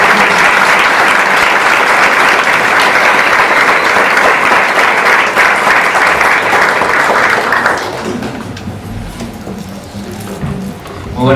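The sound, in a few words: audience applause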